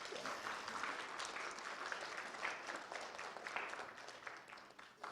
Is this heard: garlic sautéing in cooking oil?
no